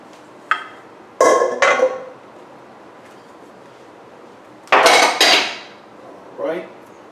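Pans, dishes and cutlery being unloaded from a dishwasher in a home kitchen, with a few separate bursts of clattering metal and clinking crockery, close and fairly loud, with quiet gaps between them.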